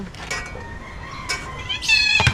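Cat meowing nearby, a few high drawn-out mews with a clearer, louder cry near the end over low background noise.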